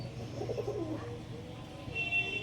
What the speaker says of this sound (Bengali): এক জোড়া চেন্নার ব্রিডের পায়রা দেখিয়ে দিই তোমাদেরকে